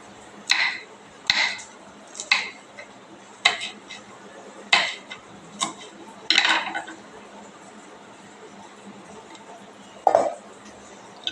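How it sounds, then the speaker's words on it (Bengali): A knife chops a green chili finely on a board, giving about nine sharp, separate taps at uneven intervals over quiet background, close and fairly loud. "এখান থেকে একটা লঙ্কা আমি ভালো মতন ঝিরিঝিরি করে কেটে নেব।"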